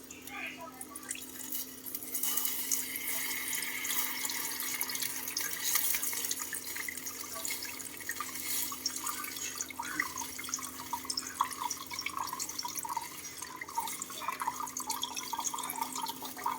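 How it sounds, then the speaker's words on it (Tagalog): Milk is poured into a pan of corn snack, making a steady, fairly loud liquid trickle and splash that runs almost the whole time, with faint clinks in the background. "Lagyan natin ng gatas."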